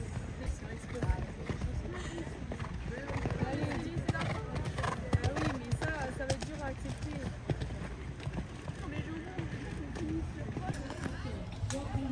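Horse hooves clip-clop steadily at a trot, close and rhythmic, with voices murmuring in the background.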